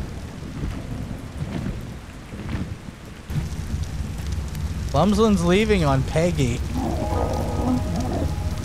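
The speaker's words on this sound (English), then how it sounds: "Oh, it's raining out here." Steady rain and rumbling thunder in the survival game ARK, a continuous wash of downpour with a louder storm surge midway, while someone talks over it partway through.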